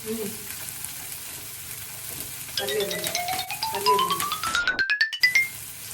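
Ginger garlic paste frying in a pan for mutton fry, a soft continuous sizzle with stirring scrapes, while a bright rising tone and a ringing chime come in midway over the crackle.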